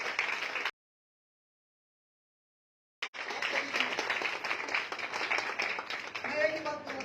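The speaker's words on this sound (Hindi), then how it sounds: "एक बार तालियां सर के लिए।" Applause from a crowd, a dense patter of many hands clapping, cut by a few seconds of silence before resuming with a voice near the end.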